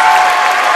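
Brief burst of audience applause, a dense crowd clapping loudly and steadily without pause for under a second.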